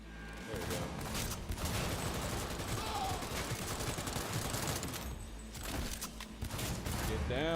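Assault rifle gunfire in the Cyberpunk 2077 video game, a dense, continuous burst of rapid shots sustained over several seconds with brief lulls, loud and close, with some voice mixed in.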